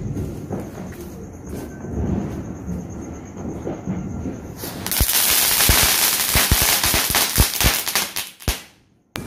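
A firecracker is lit and bursts during a Diwali celebration in Chhattisgarh. Quieter background noise gives way to a loud, rapid string of sharp crackling pops that lasts several seconds and thins out at the end.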